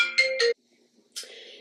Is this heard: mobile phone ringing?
yes